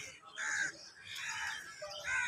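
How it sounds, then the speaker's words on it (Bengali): Birds call from the branches of trees on a hot, still midday, three short bursts of harsh, crow-like cawing heard fairly close against a quiet background. "পাখি ডালে ডালে ডাকাডাকি করছে।"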